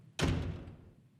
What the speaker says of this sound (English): After some heavy knocking, the door slammed open.